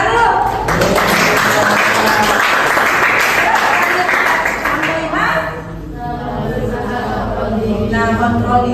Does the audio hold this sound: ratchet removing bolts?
no